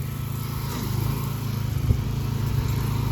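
A new pressure washer runs steadily outdoors while a house is rinsed down and a stone driveway is pre-treated, its engine droning loud and continuous at close range with no talking.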